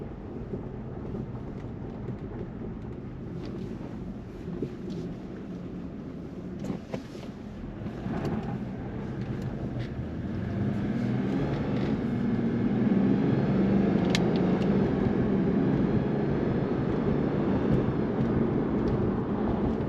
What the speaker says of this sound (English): I'm paying attention to the way the engine sounds, the way it runs